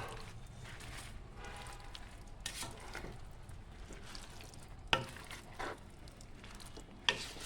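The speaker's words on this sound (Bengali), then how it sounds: "সুন্দর করে নেড়ে দিব" Sweet-sour plum pickle is stirred with a roasted spice mix in a pan, making a faint sizzling, scraping sound punctuated by two sharp clinks of the utensil.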